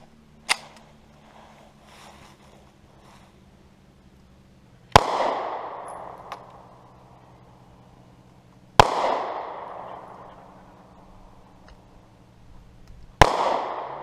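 Taurus Millenium G2 pistol fired at a shooting range: three sharp, loud single gunshots spaced several seconds apart, each with a ringing decay, after a faint earlier click.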